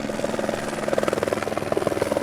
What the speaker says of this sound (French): L'hélicoptère finit par s'éloigner en direction des camionnettes